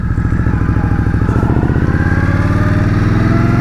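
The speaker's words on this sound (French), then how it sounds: "Faut aller chercher les tours, mais les tours montent super vite, ça reste un bicylindre." An Indian Scout Bobber motorcycle engine revs up loud and close with a rapid, throbbing twin-cylinder pulse, climbing steadily in pitch.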